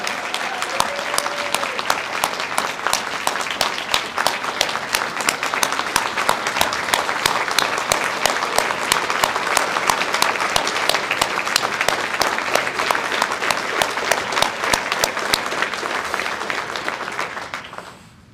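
A large audience at a 2022 WTCS student ambassador event claps steadily, loud and dense, for about seventeen seconds before the applause fades out.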